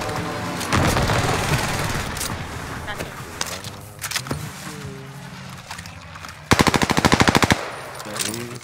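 Gunfire in Call of Duty Warzone on the Caldera map: scattered shots and booms, then a rapid automatic burst near the end, with a player talking over parts of it.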